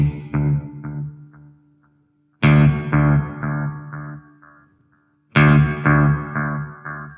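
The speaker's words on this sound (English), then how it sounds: "Are you hearing the echo on the guitar?" An electric guitar played through an echo effect in a living-room concert, with two loud strummed chords several seconds apart, each followed by repeating notes that decay slowly and then fade to silence.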